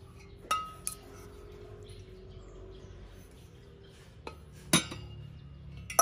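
A 2-litre cooking pot from a six-piece cookware set being handled, giving a few sharp metallic clinks and knocks spread over several seconds against a quiet room background.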